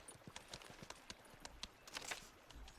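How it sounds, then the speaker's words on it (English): Horse hooves clip-clop at a steady walking rhythm in the medieval video game Pentiment, a run of evenly spaced, fairly close knocks heard alone with no talk. "Horse."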